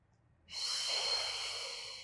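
A single long exhalation pushed out through the mouth during a beginner Pilates breathing exercise, a close, breathy hiss that begins abruptly and holds steady after a quiet moment.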